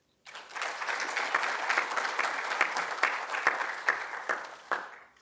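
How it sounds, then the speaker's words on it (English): A conference plenary audience breaks into applause, the many-handed clapping starting abruptly, holding steady at full strength and then thinning into a few scattered claps. "I'm sure we should have a louder round of applause"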